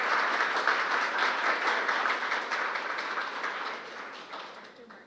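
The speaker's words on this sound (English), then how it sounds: "Go ahead and give her a big round of applause" Audience at a wellness-in-medicine mentorship panel gives a panelist a big round of applause, dense steady clapping throughout that slowly tapers toward the end.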